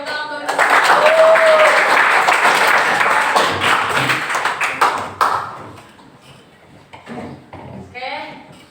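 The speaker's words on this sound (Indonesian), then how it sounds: "Oke, tepuk tangan untuk kita." A classroom of pupils claps hands together for several seconds, loud and close, before the clapping fades and a teacher's voice resumes over scattered taps and noises.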